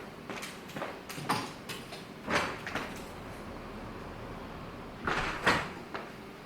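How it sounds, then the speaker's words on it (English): A door is opened indoors, with several brief knocks and clunks of the latch and handle spread over a few seconds, close and moderately loud against a quiet room. "So let me just open the door for her."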